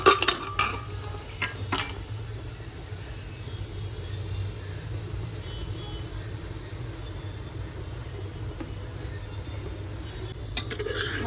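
Salted tomatoes cook in a pan over a low gas flame, giving a steady soft hiss and low rumble, with a few clinks and knocks near the start and another near the end.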